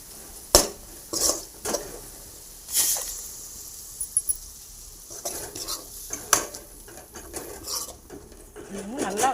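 Ground masala paste fries in oil in a pan for fish curry, with a low sizzle and sharp, irregular scraping strokes from a spoon stirring against the metal.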